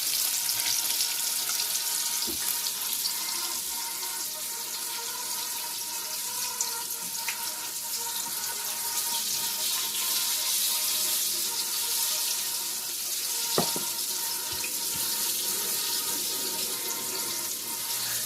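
Steady loud sizzling and crackling of hot oil as chicken deep-fries in a fryer, continuous and close, with a few faint clicks and knocks, no voices.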